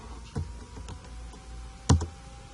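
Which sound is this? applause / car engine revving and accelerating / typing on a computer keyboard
typing on a computer keyboard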